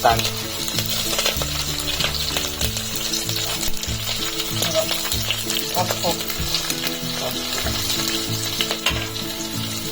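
Moong dal roasting in a pan for a spinach dal makes a constant close crackle, with rhythmic scraping stirs running throughout and faint voices now and then.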